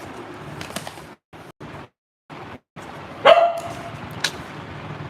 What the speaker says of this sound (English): my pet dog is barking.